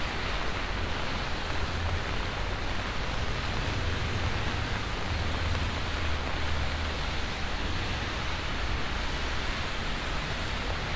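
Rain falling at night in Midtown Manhattan, New York City, a dense, even hiss of steady rainfall on wet streets, unbroken and uniform for the whole stretch.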